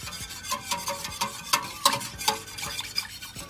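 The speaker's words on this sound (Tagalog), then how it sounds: "Tuloy-tuloy lang yung paghalo para hindi siya mamuo yung kanyang cornstarch." Peanut sauce thickened with cornstarch being stirred steadily in a pot, a rhythmic series of close scraping and clinking strokes with a faint sizzle, no voices.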